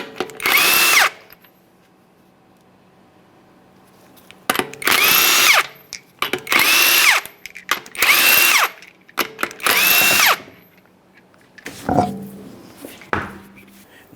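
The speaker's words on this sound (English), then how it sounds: "To remove the wheel, we're going to remove all 5 of our 22mm lug nuts" A power tool removes five 22mm lug nuts from a 2007-2013 Acura MDX wheel, loud bursts of whirring rattle about a second each, repeated several times with pauses between, close and alone.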